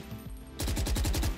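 A Phantom rifle in the video game Valorant fires a rapid spray of about nine evenly spaced, loud, punchy shots. A brief stretch of quieter sound comes before the burst.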